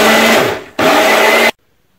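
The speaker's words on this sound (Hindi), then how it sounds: "तो अब हम इसको पीसते हैं।" A blender grinding onion and spices runs loud and harsh in two bursts, cutting out briefly in between and then stopping abruptly into silence.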